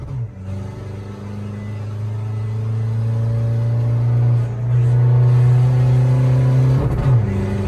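A remapped car fitted with a PROJECT4 exhaust revs in neutral, holding a steady loud drone that climbs gradually, with a brief dip before settling into a strong sustained rumble that drops off at the end.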